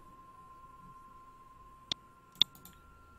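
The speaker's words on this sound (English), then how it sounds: "Let me click on him." Two crisp computer mouse clicks about half a second apart, clean and close, over a steady faint electronic hum while an amateur radio PC logging setup runs PSK31.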